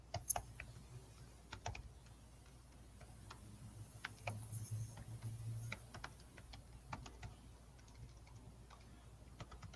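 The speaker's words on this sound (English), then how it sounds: "I thought you were typing a password there for a minute" Quick, irregular clicking of keys on a computer keyboard, close by, with short pauses between bursts and no voices.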